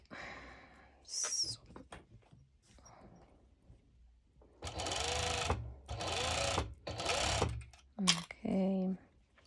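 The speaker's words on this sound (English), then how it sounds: "this is just so simple, of as simply serging it just like that" A serger stitches elastic onto a bikini spaghetti strap in three sustained whirring bursts, close and loud, with a person speaking quietly before and after the runs.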